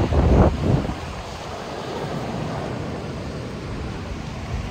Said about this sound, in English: it's like super windy